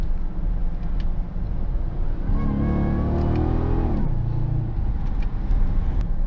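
Supercharged rear-wheel-drive Dodge Challenger SRT-8 muscle car driving, its engine note rising into a loud, steady rev for a couple of seconds before easing back to a constant road drone.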